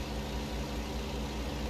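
Truck engine in the American Truck Simulator video game, a low, steady droning hum with a faint rhythmic pulse, held at a constant level throughout.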